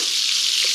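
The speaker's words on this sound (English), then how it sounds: "Basically you're deep frying the fish, okay?" Fish chunks deep frying in hot oil give a steady, close sizzle and crackle that holds evenly throughout, with no voices.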